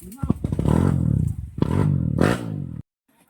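A trail motorcycle engine revs loudly in two long bursts, its pitch rising and falling, then cuts off abruptly into near silence.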